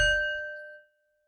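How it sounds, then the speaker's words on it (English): A single bell struck once, leaving a clear ringing tone with steady overtones that decays smoothly over about a second before falling silent. "Let's begin with a bell."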